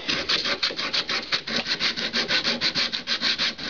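Hand sanding on a wooden push stick clamped in a vise, with sandpaper wrapped around the piece. Rapid rhythmic back-and-forth strokes rasp loudly and close, about six per second, steady throughout, with no voices.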